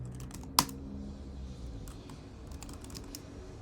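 Computer keyboard typing with a sharp loud keystroke early on, followed by lighter, scattered key taps over a low steady background hum, no voices.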